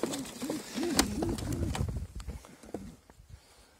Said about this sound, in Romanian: Porumbeii au fost puțin agitați, deoarece au fost prinși, au fost băgați la zaplas.